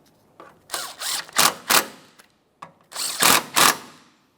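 Power tool driving and snugging 12mm-headed bolts on a power steering pump reservoir of a 2008-2017 Mitsubishi Lancer, in several short whirring bursts with brief pauses between, fairly close and clear with no talking.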